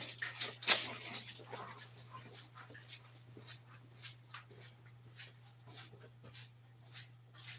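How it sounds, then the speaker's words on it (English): A neighbor's dog pants and whimpers nearby, with a few sharp noisy bursts early on followed by softer, rapid breathing and faint whines over a low steady electrical hum. "That's the neighbor's dog."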